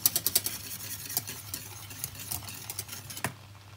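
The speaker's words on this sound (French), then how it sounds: "je vais ajouter mon fond de veau. Hop. Et je vais mélanger avec mon fouet." A whisk stirring veal stock into boiling water for an orange sauce, quick rhythmic metal clicks and taps against a pot, dense at first and easing toward the end, close and free of talk.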